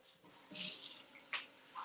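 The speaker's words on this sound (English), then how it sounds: "let's get 4 cups of water" Water runs from a kitchen tap for about two seconds, hissing steadily with small splashy surges, as four cups are measured for jasmine rice in a rice cooker; close and fairly quiet, with no talking.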